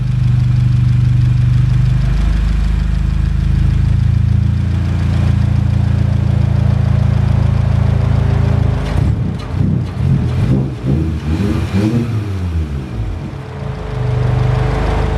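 An Audi S1 with a recently fixed surging fault idles with a loud, steady rumble, then revs up and down several times before settling back, close to the microphone amid wind buffeting.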